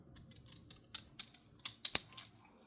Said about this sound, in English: cut these out with a pair of scissors that I got from Happy Mail